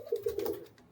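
A pair of Madras pigeons cooing close by, a short soft run of low throaty coos lasting under a second.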